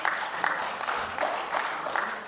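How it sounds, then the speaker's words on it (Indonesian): Applause for Perbasi, the Indonesian basketball federation, at a parliamentary hearing on player naturalisation: a short burst of scattered clapping from a modest crowd, with rhythmic claps pulsing through. "Kita kasih aplaus dulu Perbasi"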